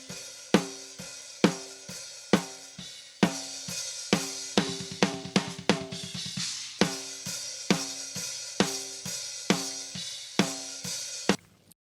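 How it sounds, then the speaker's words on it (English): Real snare drum close-miked with a Shure SM57 in a metal drum kit recording, struck in a steady rhythm of sharp, punchy hits with a quick roll in the middle and noticeable bleed from the rest of the kit. "So it's just a normal typical snare with an SM57."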